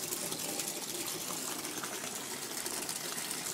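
A bath bomb fizzing in bath water, a continuous bright hiss of bubbles and gentle watery rushing, steady and close with no voices.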